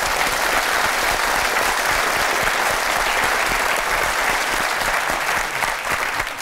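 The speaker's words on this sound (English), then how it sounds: "Give them a round of applause, ladies and gentlemen." Studio audience at a BBC television show in Belfast gives sustained, dense applause, loud and steady throughout before tapering slightly at the end.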